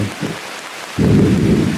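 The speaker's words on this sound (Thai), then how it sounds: "ฟ้าร้องฝนก็เริ่มจะตกลงมาแล้วครับ" A low rumble of thunder fades, then a loud wash of heavy rain sets in and keeps pouring, close and dense, at Bo Cha-om in Saraburi, Thailand.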